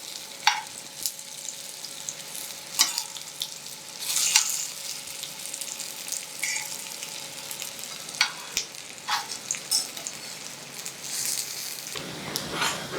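Paneer cutlets frying in a pan, a steady close sizzle of oil with scattered pops and scrapes as the pieces are lifted and turned with tongs.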